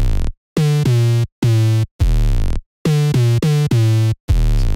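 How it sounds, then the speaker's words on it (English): Pitched 808 bass sample playing a moombahton bassline with sliding notes: loud, sustained, buzzy booming tones in choppy phrases separated by brief gaps, with no voices. "Then only thing left is the 808."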